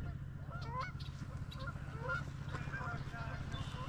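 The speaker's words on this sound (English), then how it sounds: "There's like 20 geese in there, up there." Geese honk repeatedly at a lake, a flock of about twenty calling in overlapping bursts at moderate distance over a low steady rumble.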